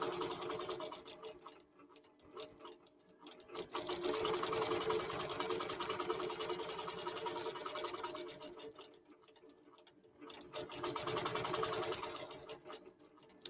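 A QBOT robotic quilting machine stitching a quilt, rapid rhythmic needle ticking that swells and fades in bursts over several seconds, moderately close with a faint hum beneath.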